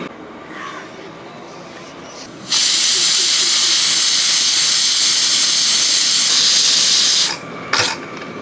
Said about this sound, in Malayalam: ഏഴ് വിസിലടിച്ചിട്ടുണ്ട്